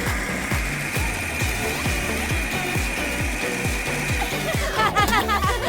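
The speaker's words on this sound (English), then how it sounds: "we can use our special bunny blender" A small bunny-shaped blender purees leftover fruit into a pink smoothie, giving a steady motor whir with a rhythmic chopping pulse that runs loud and close throughout, then shifts in pitch near the end.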